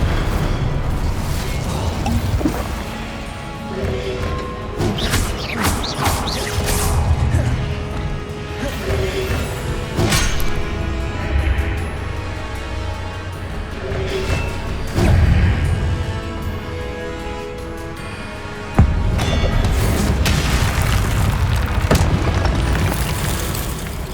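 Spellcasting combat in the video game Hogwarts Legacy fills the air with loud, dense magical blasts, booms and crashes layered over game music, continuous and heavy throughout with a sharp impact near the end.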